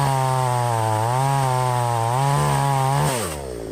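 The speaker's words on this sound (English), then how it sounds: "you can almost count every RPM on the chainsaw" A cheap Chinese chainsaw roars loud and close while cutting through a tree's hinge, its steady engine drone dipping in pitch toward the end as the tree starts to fall.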